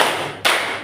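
Two loud, close hand claps from children in a counting clap game, each a sharp burst with a quick decay, the second coming about half a second after the first.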